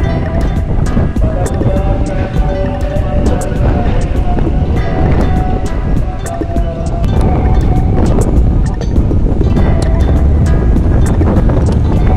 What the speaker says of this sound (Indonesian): Anginnya kenceng banget ya anginnya ya.